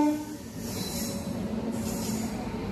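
Another train running on a parallel track beside a moving MEMU near Nidadavolu Junction, a steady, fairly faint rolling rumble with a short horn-like tone at the start and no talk.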